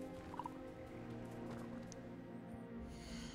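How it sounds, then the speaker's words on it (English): Chickens in the Hogwarts Legacy video game give faint, soft clucks and gobbling calls over a low ambient game background, quiet and distant with no speech. "Oh, look at these chickens running around."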